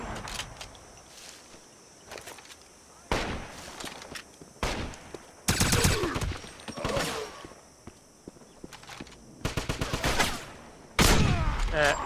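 Gunfire from a Wolfenstein video game, with several sharp bursts and single shots punctuating a quieter background of in-game movement and ambience.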